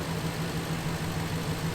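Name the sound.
truck engine idling after cold start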